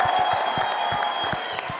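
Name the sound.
audience applause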